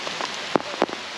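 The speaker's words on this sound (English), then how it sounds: "It is coming down heavy. Big old fat rain." Heavy rain pounds down along the Pacific Coast Highway during a Harley-Davidson ride, a steady close wash of drops with two brief louder bursts, no voices.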